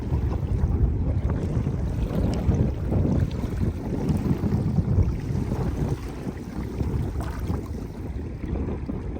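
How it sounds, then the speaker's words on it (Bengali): Strong wind roars steadily alongside lapping river waves on the open Padma river at Rajshahi, a continuous dense rush with no voices. "এত পরিমাণ বাতাস আর নদীর ঢেউয়ের যে শব্দ মিলেমিশে একাকার"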